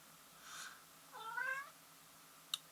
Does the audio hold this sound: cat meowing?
yes